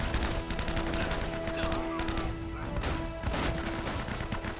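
Uncharted: Drake's Fortune gunfire rattles in steady, fast bursts of sharp shots, dense and continuous throughout, with a sustained tone humming underneath.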